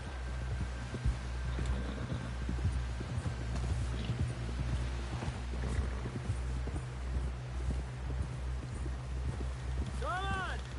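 Horse hooves clip-clop at a steady walking rhythm in the video game Red Dead Redemption 2, heard throughout under voices and a low hum.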